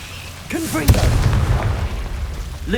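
A short vocal sound comes just before a Confringo blasting spell bursts in Hogwarts Legacy with a sharp crack. A deep, rolling explosion rumble follows and carries on for a couple of seconds.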